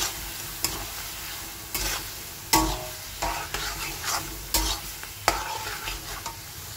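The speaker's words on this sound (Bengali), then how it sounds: "হলুদ জিরে ধনে বাটা সব কিছু দিয়ে আমি কিন্তু মশলাটা কষিয়ে নিচ্ছি" Turmeric, cumin and coriander paste masala fries in a pan for muri ghonto, with rhythmic spatula scrapes and knocks every second or so over a steady sizzle, no voices.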